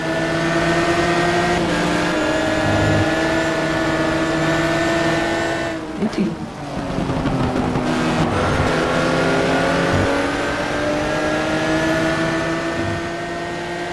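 A race car in a GT racing sim video game, understeering as it slides through a corner on too much speed: a loud, steady engine drone shifts pitch, dips briefly, then climbs again, with tire scrub under it.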